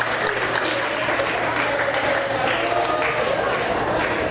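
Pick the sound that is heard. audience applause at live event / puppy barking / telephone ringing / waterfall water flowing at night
audience applause at live event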